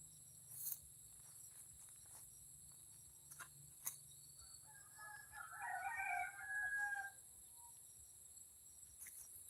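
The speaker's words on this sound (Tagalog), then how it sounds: "Naririnig nyo po ba yung ano ng manok? Tilaok." A rooster crows once in the distance, a faint drawn-out call in the middle of a quiet outdoor night scene full of steady chirping crickets and insects, with a few soft knocks and no talking.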